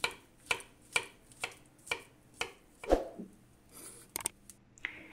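A knife dicing bananas taps sharply on a cutting board in a steady rhythm, about two chops per second, close and crisp in a quiet room.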